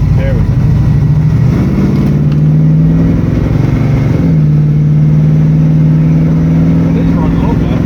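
A 1971 Chevy Camaro engine starts and runs, a loud low rumbling idle that rises into revving and then settles into a steady hum, with people talking nearby.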